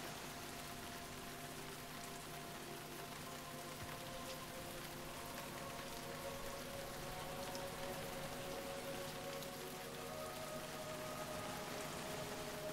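Steady rain falls in the medieval castle-building game Stronghold 3, a constant even patter that runs without a break beneath a faint tonal hum.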